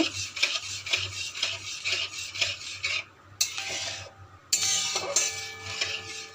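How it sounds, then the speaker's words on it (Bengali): Sour curd is stirred into spices in a pan over a low flame for an ash gourd curry. A spatula scrapes in a steady rhythm, then a few louder metallic knocks and clatters ring out nearby. "এবার দইটাকেও আমরা মশলার সাথে ভালো করে মিক্সড করে নেব।"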